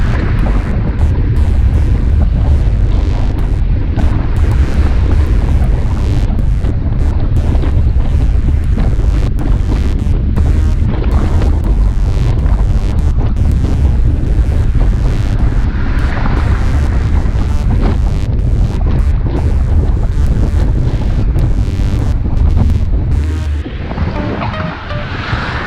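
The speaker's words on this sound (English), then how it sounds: "And then we're going directly into the wind." Loud, continuous wind buffeting a microphone during a group road ride, riding straight into a headwind up a slight incline, a steady low roar filling the whole stretch with no talk.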